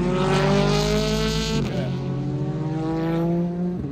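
Loud race car engines roar continuously at Road America during the WeatherTech International Challenge, with a high revving whine that shifts pitch as cars pass, close and steady throughout.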